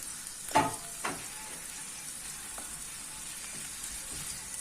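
Steady, soft sizzling of simit frying in oil, with a couple of brief clinks near the start.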